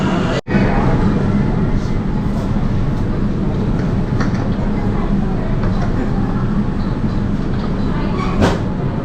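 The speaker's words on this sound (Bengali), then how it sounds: "গাড়ি অলরেডি ঢুকে গেল, এই গাড়িতেই আমরা যাব হাওড়া ময়দান।" A new metro train on the Howrah–Esplanade underwater line pulls into the station with a loud, continuous rumbling roar that holds steady throughout, broken only by a brief dip near the start and a faint squeal near the end.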